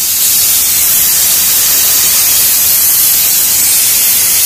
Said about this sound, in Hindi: हमारे कुकर में सीटी आ रही है और ये पहली सीटी है